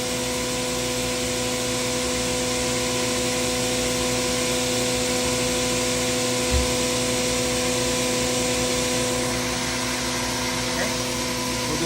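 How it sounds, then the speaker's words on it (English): A 2017 Haas VF4 CNC vertical mill spins its spindle at 15,000 RPM, producing a constant high-pitched whine with steady tonal hum over a broadband whoosh, loud and unbroken throughout. "I'm gonna come to the side and got the spindle going."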